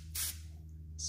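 Two short hissing sprays of glass cleaner from a trigger bottle onto a car windshield, close by, separated by a brief pause over a low steady hum.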